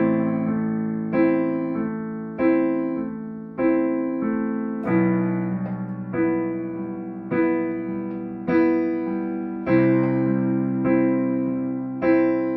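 Piano chords from a song, struck on each of the four beats, each one decaying before the next, with a gentle rocking right-hand pattern, played steadily and alone at moderate volume.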